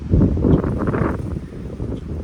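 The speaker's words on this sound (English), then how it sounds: "it's always windy like this" Gusts of wind buffet the microphone, producing loud low rumbling bursts for a couple of seconds, with no talking.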